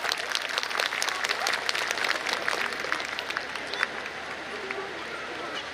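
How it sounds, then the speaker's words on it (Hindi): Audience applause at a school annual day function as a guest is welcomed onto the stage: dense, steady clapping from a large crowd that holds for several seconds before easing slightly, with faint voices mixed in. "कृपया जोरदार तालियों के साथ उनका मंच पर स्वागत करें"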